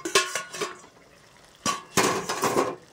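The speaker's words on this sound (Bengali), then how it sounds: "তো বন্ধুরা ঢাকাটা খুলে দেখে নেবো কতটা সিদ্ধ হয়েছে।" A lid is lifted off a pot of boiled cabbage and potatoes, giving a few close metallic clanks and scrapes separated by brief quiet gaps.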